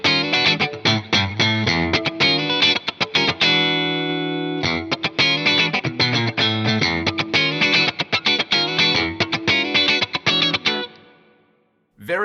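Electric guitar on the parallel pickup setting of a Custom 24, played through an Axe Fx III compressor into a USA clean amp with a London plate reverb: rhythmic chords and a held chord, clean and bright, ending in a fade.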